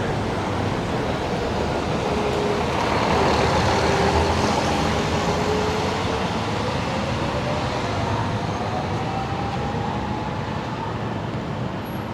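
A city sightseeing bus rumbles past on a busy downtown Toronto street, a steady loud roar of engine and road noise over about twelve seconds, swelling slightly midway with no voices.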